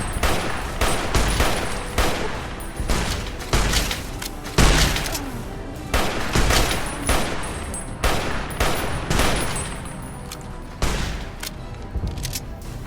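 Repeated loud gunshots and bursts of gunfire from Fallout: New Vegas ring out in an irregular, close-sounding exchange, punctuated by a few heavier booms.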